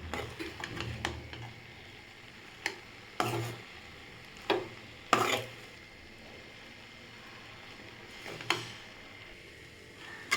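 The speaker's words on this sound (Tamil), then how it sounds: "எல்லாத்தையும் சேர்த்து நல்லா அப்படி மிக்ஸ் பண்ணிக்கோங்க." Egg pasta gets tossed and mixed in a pan, with sparse clacks and scrapes of a utensil spread over ten quiet seconds above a faint background hum.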